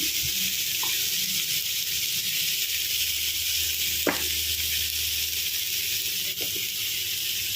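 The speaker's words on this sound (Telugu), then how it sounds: "ఐలో పెట్టుకొని ఇలా వేయించుకోవాలి" Amaranth leaves with turmeric fry in a pan, giving a steady, even sizzle throughout with a brief scrape or stir near the middle, close and alone with no talking.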